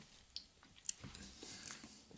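Someone bites into and chews an iced donut with slightly crunchy icing and a soft interior, giving quiet, close crunching and chewing sounds in a few uneven bursts with no talking.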